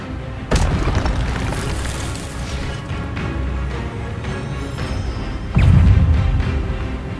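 Two heavy magical blasts from a spell cast in Hogwarts Legacy, one near the start and a louder one near the end, burst over a constant dense bed of game ambience and effects.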